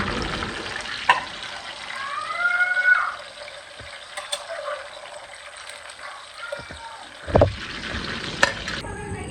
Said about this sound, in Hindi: जिस ऑयल में मैंने बैंगन फ्राई किए थे उसी ऑयल में मैं आलू फ्राई कर रहा हूँ।